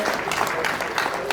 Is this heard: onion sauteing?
no